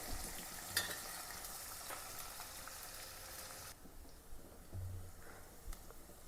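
Onion, garlic and ginger sautéing in a pan for fish curry, a faint steady sizzle that drops quieter halfway, with occasional soft stirring scrapes.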